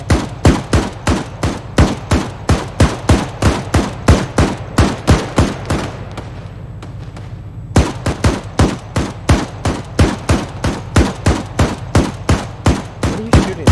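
Rapid bursts of automatic gunfire in a video game squad drill, loud, evenly spaced shots running almost continuously with one short pause partway through, no talk over it.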